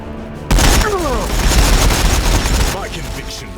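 Heavy gunfire and explosive booms from an Astra Militarum battle in the Warhammer 40,000: Battlesector video game, a loud sustained barrage of rapid shots and blasts over a rumbling low end, with whistling projectiles and battle voices mixed in.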